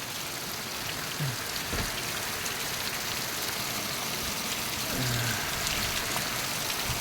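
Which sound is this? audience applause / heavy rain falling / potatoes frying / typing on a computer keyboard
heavy rain falling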